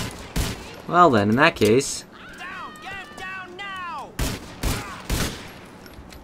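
Police gunfire in GTA IV, a few sharp shots and bursts cracking out at intervals while someone talks over them and game sounds clatter in between.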